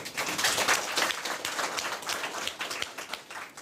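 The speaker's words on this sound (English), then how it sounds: "Let's give the President a round of applause." Audience applauding the President at a Namibian forum on subsidised tertiary education in public institutions, a steady wash of clapping from a fairly sizeable crowd that holds level for several seconds without talk.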